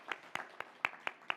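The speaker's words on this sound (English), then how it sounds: "just a round of applause for all of you tonight" Sparse clapping from an audience at an evening event, about six sharp claps spaced through the moment, faint and thin rather than a full ovation.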